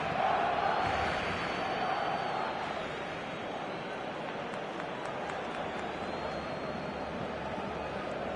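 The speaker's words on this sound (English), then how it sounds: "the crowd are reacting to that now" A large football stadium crowd at a Barcelona versus Real Madrid match gives a steady, loud roar that swells slightly at the start and then holds as a dense wash of noise.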